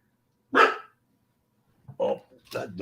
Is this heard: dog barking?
yes